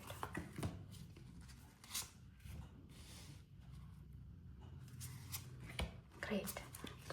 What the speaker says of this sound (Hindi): अच्छे से एक बार लास्ट टाइम शफल करूँगी मैं कार्ड्स को.